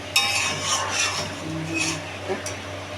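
Prawns and green chilies fry in a pan, a crackling sizzle mixed with scraping stir strokes and light utensil clatter, close and moderately loud, with a few sharper scrapes.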